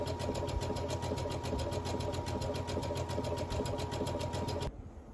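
A sewing machine stitches the sleeves of a cotton yukata onto a homemade jinbei, running in a fast, steady whirr for nearly five seconds before stopping abruptly, leaving a faint room hush.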